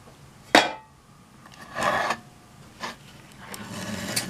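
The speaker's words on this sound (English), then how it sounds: "Now let's pop it open since I've taken the screws out." Metal case of a vintage HeathBuilt EUW-17 transistorized power supply being pried open with its screws removed: a sharp metallic snap followed by several scraping, rubbing clatters, close and fairly loud.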